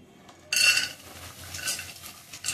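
Dry fruits roasting in a pan for ladoos, with a sudden clatter of a metal spoon against the pan followed by dry rustling stirring and a few more scrapes, no voices.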